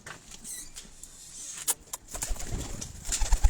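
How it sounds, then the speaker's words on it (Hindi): Pigeons on a rooftop loft in Abbottabad, kept by fanciers, give soft cooing amid creaking and light rustling, with a few sharper clicks and knocks nearby. "तो ये फैसल भाई आप वाला कबूतर जो है वो ये है"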